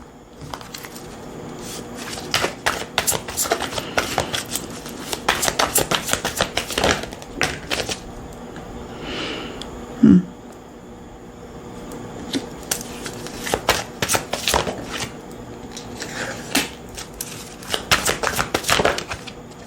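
Oracle cards being shuffled by hand, repeated bursts of crisp riffling and flicking with short pauses between rounds, close and fairly soft.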